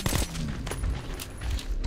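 Gunfire in the first-person shooter Metro 2033 Redux, a burst of sharp, loud reports near the start followed by rattling debris and clatter through the rest of the moment, heard alone without talk.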